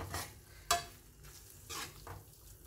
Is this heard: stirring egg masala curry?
yes